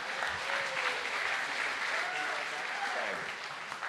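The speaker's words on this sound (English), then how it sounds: "now we can clap for him" An audience claps for a boy who was dunked on stage, a dense, steady burst of applause from a crowd indoors, with voices faintly mixed in.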